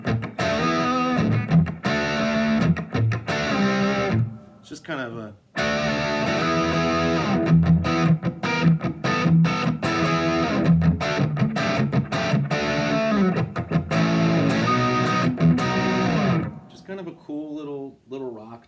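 Electric guitar played through a small amp on a rock tone preset, crunchy distorted chords strummed loud and steady with a short break midway, someone talking briefly over it.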